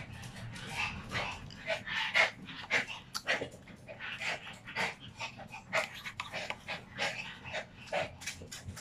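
Dogs pant rapidly and rhythmically close by, with occasional whimpers and snuffling breaths mixed into the quick huffing.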